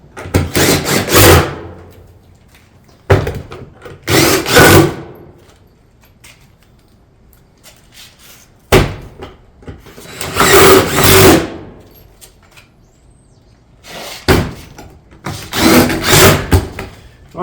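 A power tool drives fasteners into a metal barrel vault tile roof panel in four separate short bursts of whirring and rattling, each a second or two long, with quiet pauses and faint clicks between.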